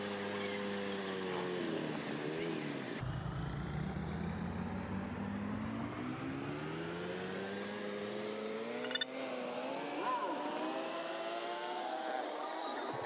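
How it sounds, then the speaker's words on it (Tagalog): Heavy road traffic on a busy street near market stalls selling vegetables, meat and fruit, a steady dense rumble of passing engines with vehicles revving and accelerating, continuous and fairly close, no talking. "Dito nyo makikita kung gaano ka-traffic."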